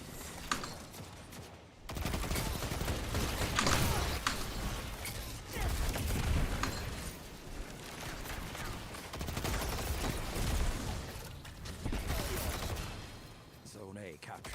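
Rapid automatic fire from the Quicksilver gun in a competitive zone-capture shooter, dense bursts of loud shots through most of the stretch, with game sounds layered underneath.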